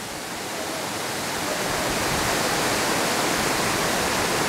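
A waterfall at an old mill dam on a river gives a close, loud and steady broadband rush that swells slightly at the start and then holds without voices.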